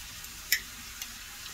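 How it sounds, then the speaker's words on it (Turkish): Garlic and onion sautéing together in a pan, a quiet continuous sizzle with a couple of sharp clicks from a utensil. "Sarımsakla soğanı beraberce soteliyoruz"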